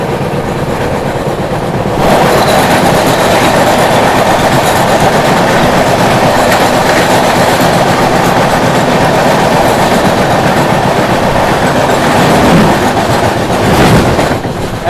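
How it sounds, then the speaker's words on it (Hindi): LTT Shalimar Express passenger train passing close by, a loud steady rumble with rapid wheel clatter over rail joints that swells in at the start and holds for the rest of the clip, no talk. "दोस्तों सामने से आ रही है LTD शालीमार एक्सप्रेस।"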